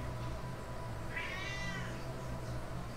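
A single cat meows once, a short rising-and-falling call fairly faint over a steady background hum, with no one talking.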